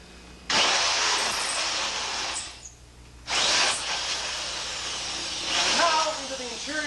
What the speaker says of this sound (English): picking a spot back in the safe where I know there's no hardened anti-drill plate and drilling through to the interior